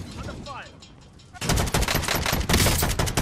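Rapid bursts of automatic gunfire from a high-recoil gun in Call of Duty Warzone, loud and close, a dense rattling volley erupting after a quieter stretch of game ambience.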